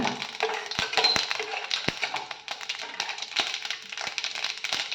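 Chana dal lentils crackle and pop in hot oil for a South Indian poriyal, sharp irregular snaps over a constant sizzle, close and fairly busy throughout.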